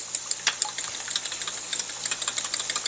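Eggs with onion powder, Himalayan salt and garlic powder are beaten in a bowl, a quick run of light clicking and tapping strokes that keeps going close by with no talk.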